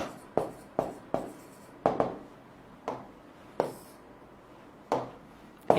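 Chalk strikes and scrapes on a board in sharp, irregular taps and short strokes while chemical reactions for a hydrogen fuel cell are written out, close and clear with no talking.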